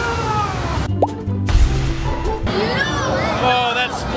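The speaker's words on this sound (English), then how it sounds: "Oh, that splashed the heck out of us!" Water sprays and splashes over riders on a rainy-day Universal Studios Hollywood theme park ride near the T-Rex enclosure, a sudden drenching burst mid-clip amid shrieks, crowd babble and excited voices.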